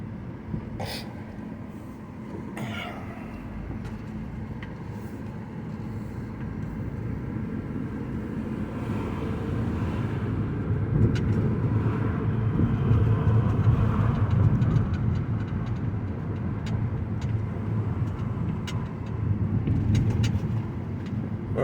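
A 2009 Mazda 5 fitted with a new transmission control module drives and shifts up through the gears. Its steady interior road and engine rumble builds gradually, with no one talking.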